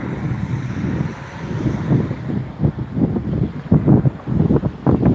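Breezy outdoor wind buffeting the microphone beside an old brick and concrete building in a Tennessee town, loud gusty rumbling that swells and fades in uneven bursts, with no talk.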